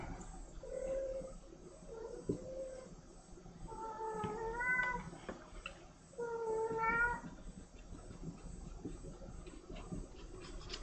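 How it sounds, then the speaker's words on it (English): A cat meows four times, two short calls followed by two longer, drawn-out meows, fairly close in a quiet room. "If you can hear meowing"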